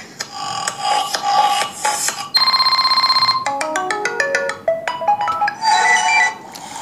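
Several electronic ringtone melodies play back to back, bright beeping tones and quick chiming note runs, loud and clear with no talking.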